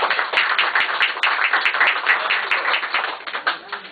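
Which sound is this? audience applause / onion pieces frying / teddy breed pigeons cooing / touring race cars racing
audience applause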